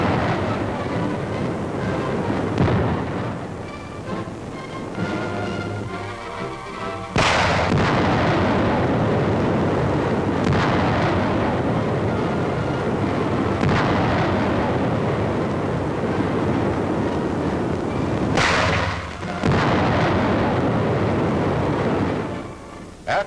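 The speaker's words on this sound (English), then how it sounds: "The final phase of the test is firing the same number of high explosive filled rounds at the figures" High-explosive artillery shells are fired and burst in a test against figures, heavy booms and blasts recurring every few seconds over a sustained, loud rumble with sharp cracks at intervals.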